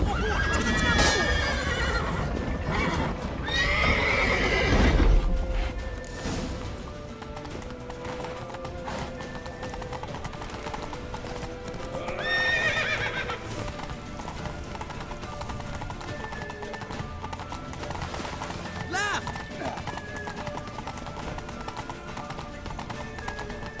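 Horse hooves clip-clop at a gallop in The Witcher 3 on Death March difficulty, with repeated loud whinnies and neighs standing out over the running hoofbeats, amid game sound and occasional shouted voices.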